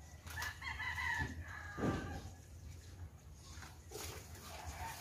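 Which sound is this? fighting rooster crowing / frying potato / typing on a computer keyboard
fighting rooster crowing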